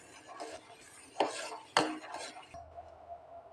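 A spoon scrapes and clinks against a pan while thickening fruit custard is stirred, a few short metallic scrapes and two sharper knocks, close and fairly quiet, with no talk.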